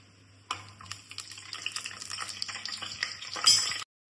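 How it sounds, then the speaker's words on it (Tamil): A handful of cashew nuts sizzle and crackle in hot oil in a pan, with faint scraping and stirring sounds throughout, close and fairly quiet, for a Tamil-style mint rice; no one speaks. "அதுல கொஞ்சம் ஒரு அஞ்சாறு முந்திரி பருப்பு போட்டு முந்திரி பருப்பு நல்லா வதங்கணும்"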